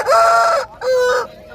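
Rooster crowing at a poultry market, loud and close, in two long crow phrases separated by a short pause, with no talk over it.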